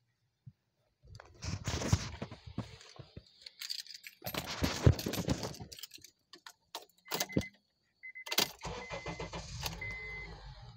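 A 2008 Honda CR-V being started: keys jangle and clatter in separate bursts with brief clicks, then the engine catches and settles into a low, steady idle hum, all close by and fairly quiet.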